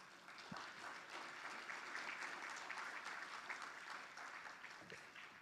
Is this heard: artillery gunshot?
no